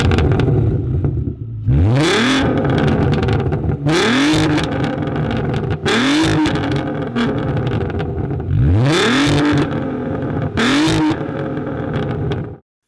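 A Volkswagen EA390 3.2-liter VR6 six-cylinder revs hard several times, each blip climbing in pitch and falling back to a rough idle, loud and close with no talking.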